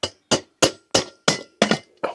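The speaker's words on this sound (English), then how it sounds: "Try it up with a hammer." A hammer taps a diesel heater's metal combustion chamber to loosen it, seven sharp evenly spaced metallic knocks with a slight ring, close and alone.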